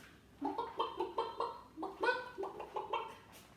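A person imitates a chicken, giving a run of rhythmic, nasal clucks in quick bursts with short pauses between them.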